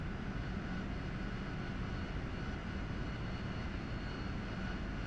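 A Harrier jet engine in a flight simulator game gives a steady, loud, dense roar with no change in pitch and no voices for the whole stretch.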